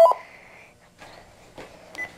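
A telephone gives a sharp electronic beep followed by a held tone and a few fainter bleeps, close and fairly quiet, with no talking.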